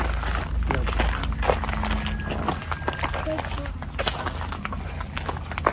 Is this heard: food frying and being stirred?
no